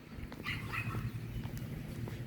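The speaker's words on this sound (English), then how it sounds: "These little ornery ass dogs, man." Small untrained dogs yip and whimper faintly in short bursts, somewhat distant, against a low background hum.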